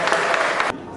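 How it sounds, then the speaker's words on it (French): A French-speaking gathering gives a vigorous round of applause for the Archive team, a loud, dense burst of clapping that stops abruptly after under a second. "Les applaudissements pour vous."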